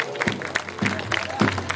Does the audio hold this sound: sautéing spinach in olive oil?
no